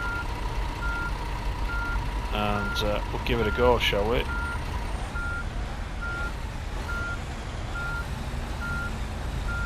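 Bus reversing beeps from Fernbus Simulator sound in a short run of repeated tones mid-clip, set over a steady engine hum while someone talks.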